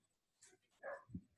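A dog barks faintly in the background during a Zoom class session, a couple of brief, distant yips amid quiet room noise.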